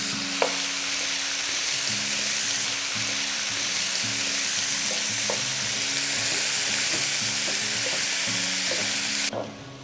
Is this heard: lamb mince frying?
yes